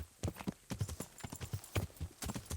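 A horse gallops in Kingdom Come: Deliverance, hooves pounding in a quick uneven rhythm of heavy thuds, close and loud with nothing else competing.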